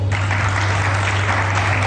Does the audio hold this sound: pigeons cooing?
no